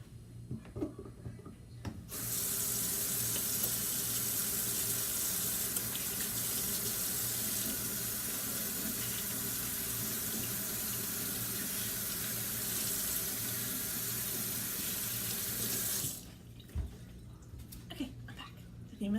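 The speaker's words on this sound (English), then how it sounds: "let me wash my hands real quick" A kitchen tap runs steadily for about fourteen seconds while hands are washed beneath it, a loud continuous rush that starts and stops abruptly, with faint room sounds before and after.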